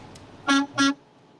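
A voice imitates a car horn with two short, loud honks in quick succession against a quiet background.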